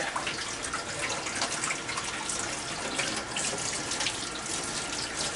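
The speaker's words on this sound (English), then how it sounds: "Let me wash my hands with this since I touched my foot." A kitchen tap runs steadily while hands are washed, a loud, close, continuous rush of water splashing into a sink with no break.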